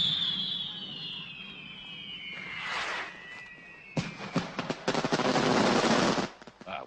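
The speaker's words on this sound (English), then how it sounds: "What with all this laughing and fireworks, it'll be a long time before we get any peace tonight" Fireworks in a 1973 film: a whistling rocket streaks upward, then a rapid burst of crackling pops and bangs erupts at moderate distance, with a brief lull between.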